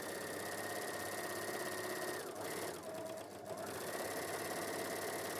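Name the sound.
overlocker sewing elastic to fabric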